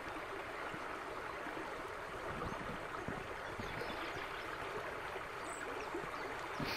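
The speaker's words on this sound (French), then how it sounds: "La petite vidéo, on va aller voir la mini cascade qu'on a là-bas en 4x3." A small waterfall on a stream pours with a continuous, broadband rushing and splashing, steady and moderately close, with no voices.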